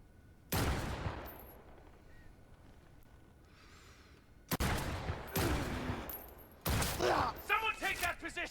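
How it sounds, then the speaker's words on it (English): Bursts of gunfire crackle in Cyberpunk 2077 Phantom Liberty, with loud, abrupt volleys starting at intervals and rapid shots in the later bursts, separated by quieter pauses. "Shots fired!"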